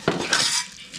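Prawn mince for a samosa filling is dropped into a hot pan, giving a brief close clatter of metal followed by a short hissing sizzle that fades within a second.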